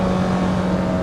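Honda S2000 engine held at full throttle in the Assetto Corsa EVO racing game, a loud, steady high-rpm drone with a strong sustained tone and no pauses, running alone for about a second.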